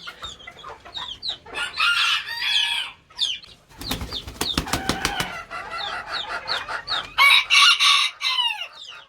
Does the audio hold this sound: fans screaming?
no